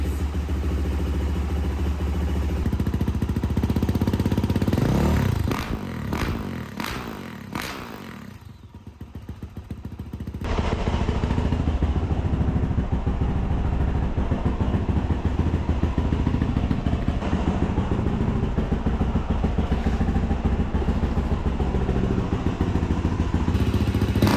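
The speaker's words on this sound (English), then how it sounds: "we're going to start it up and let the oil warm up, circulate before we drain it" A 2023 Yamaha YZ450F dirt bike runs close by, idling steadily to warm its oil, with a few sharp throttle blips midway, then a steady rattling idle.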